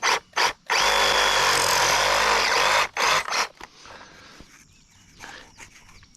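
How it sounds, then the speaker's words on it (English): A power tool cuts the bottom point off a steel 1¼-inch well point pipe: two short loud bursts, then a long steady whine of about two seconds, another brief burst, and the tool dies away to quiet. "So let's just cut the bottom off."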